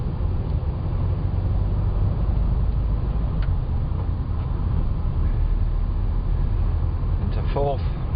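Classic Type 1 VW Beetle fitted with a Gene Berg gear shift, its air-cooled engine droning steadily as it drives and changes down through the gears, with a brief higher whine near the end.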